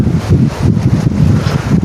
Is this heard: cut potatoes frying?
no